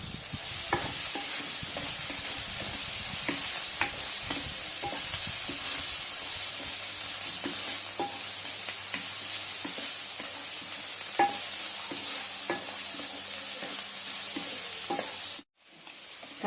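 Onions seasoned with salt and turmeric sizzle steadily in a pan for egg poriyal, with a constant close frying hiss and occasional scrapes and clinks from stirring. A brief dropout comes near the end.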